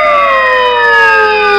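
A police car siren wails loud and close, a steady sustained tone with several stacked harmonics slowly falling in pitch, alone with no talk.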